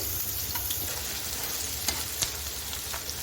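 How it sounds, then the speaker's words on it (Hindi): Onions frying in a pan for baingan ka bharta, a dense close sizzle that stays steady from start to finish, with a few faint crackles and no voices. "सबसे पहले हम प्याज जो है वो फ्राई पैन में डाल के इनको लाइट ब्राउन करते हैं, भून के"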